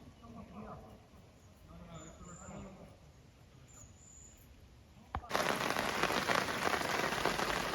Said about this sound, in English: It's absolutely pissing down tropical rain.